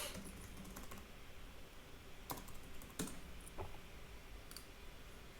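Keys clatter on a computer keyboard in quick, uneven bursts, with a few sharper clicks standing out from the close, steady typing.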